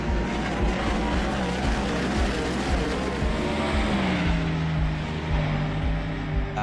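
Midget race cars roar around dirt at Eldora Speedway in a sim racing game, a dense, continuous engine drone with several cars close together and pitch rising and falling as they pass.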